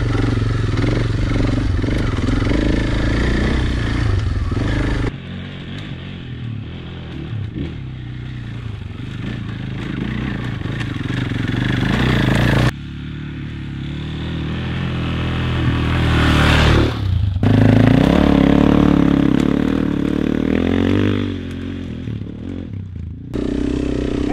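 A dirt bike heavily loaded with Giant Loop and Kriega luggage rides off-road with a steady, loud engine drone, its note rising and falling with throttle changes, plus clatter and scraping from the rough trail.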